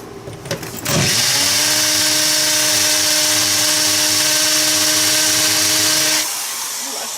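A new hammer drill running in hammer mode, starting after a brief knock and then holding a loud, steady buzzing whine with a rapid hammering rattle for about five seconds before it winds down.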